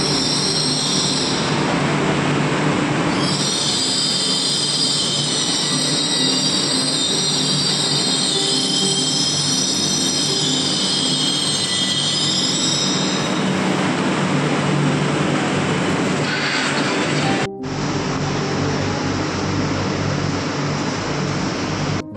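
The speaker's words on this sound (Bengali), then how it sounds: "বন্ধুরা, আমরা উঠে গেছি এখন মেট্রোতে।" A new metro train at a station, a loud sustained rumble of wheels on rails with high-pitched screeching and whining running for several seconds, then a sharp cut to steadier rolling noise near the end, with no talking.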